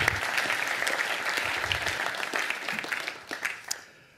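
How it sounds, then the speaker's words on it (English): Sustained audience applause fills a workshop room, a dense wash of many hands clapping that holds steady, then thins out and fades near the end. "A little round of applause for these lovely gentlemen."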